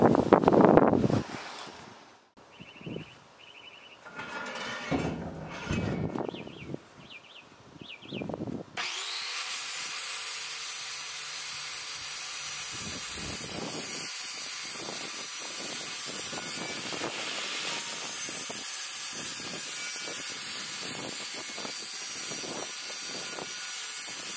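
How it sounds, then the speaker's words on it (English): An angle grinder is used on the metal of a wagon wheel to prepare it for welding a rose trellis. Scattered clatter and handling noises come first, then a loud, continuous grinding whine runs steadily for the rest. "So first thing I got to do is grind"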